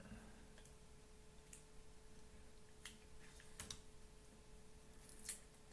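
Tape being cut with scissors while making a Buka fighter kite, a few faint, sparse snips and ticks over a quiet steady hum, with a sharper click near the end.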